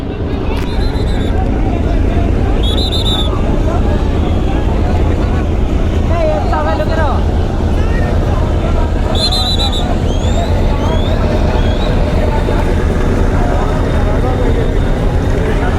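Passenger launch Adventure 9 under way on a river, its engine a steady, loud low rumble throughout, with a few faint whistles and other river sounds on top.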